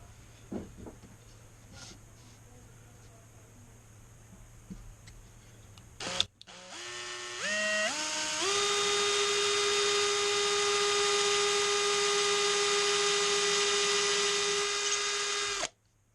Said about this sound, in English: And then I'm ready to drill.